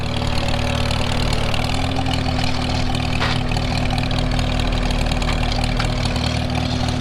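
A tractor fitted with an M&W 9-speed transmission and a newly installed carburetor runs in fourth gear on the high side, its engine droning steadily and loud from start to finish.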